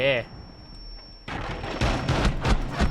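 Rapid gunfire crackles through a samurai and ninja battle video game after a brief opening tone, bursts of shots stacking up loud and close over the remaining seconds.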